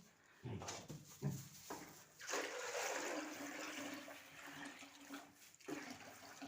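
Water poured from a bucket into a pan for pigs on a farm, a steady splashing gush lasting several seconds after a few short knocks, close and fairly loud.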